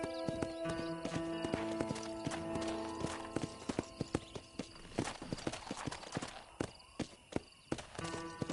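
Horse hooves clip-clop steadily in the Red Dead video game, the rhythmic hoofbeats growing sharper and more distinct toward the end over a layer of tonal game music.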